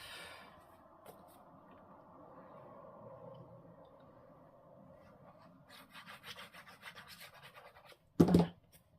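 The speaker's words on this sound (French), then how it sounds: "on en coupe du papier" A craft blade cuts paper with soft scraping strokes, then a quicker run of rough rasping cuts, ending in one loud, sharp scrape.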